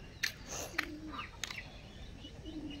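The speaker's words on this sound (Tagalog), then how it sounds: "Yan mga kalapatids." Pigeons coo softly nearby, low throaty calls mixed with a few sharp chirps and brief wing flaps against faint background noise.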